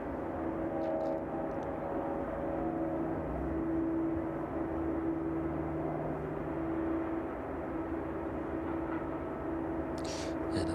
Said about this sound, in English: that 767 passing through 700 feet now, just overhead Kegworth